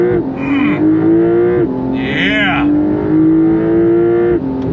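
A Porsche 911 GTS engine revs hard in first gear and climbs steadily in pitch, loud and close, with a brief shift-like dip midway and a short spoken word over it.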